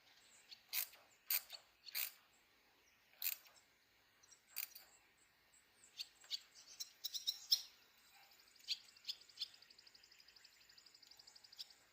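Faint ratcheting clicks come in short irregular bursts, then a quick run of rapid ticks, as a bolt is backed down while fitting a wireless charging phone mount in a car.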